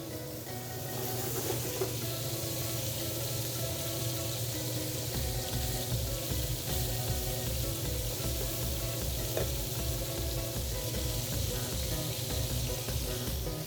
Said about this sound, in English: The pork is gonna finish to cook in the pan